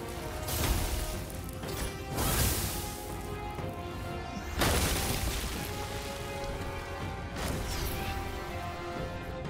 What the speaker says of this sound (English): Not smashing the ice, leaving little craters in the ice.